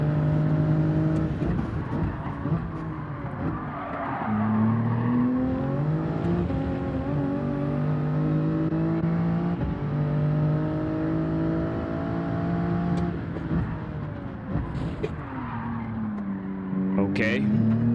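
A Toyota Supra races in Gran Turismo 7 at Mount Panorama, its engine revving hard through rising and falling gear pulls with brief tire squeal, while a voice talks over it.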